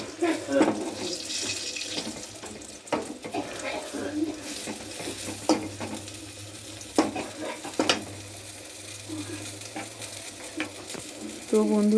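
Eggplant slices fry in a pan with a close, continuous sizzle, broken by repeated stirring scrapes and brief knocks, over a low steady hum.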